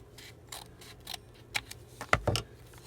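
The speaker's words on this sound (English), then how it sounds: "we can go ahead and cut this open" Scissors snip through a folded paper envelope in a few short, close cuts, each a crisp paper crunch with small metallic clicks, the last ones sharper and louder.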